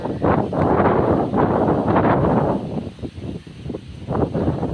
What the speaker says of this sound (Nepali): पुरा दामी हावा चलिरहेछ एकदम बवाल